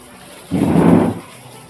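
A short burst of rain falls for about a second, rising and fading as a soft broadband patter close by, with a quieter outdoor background before and after.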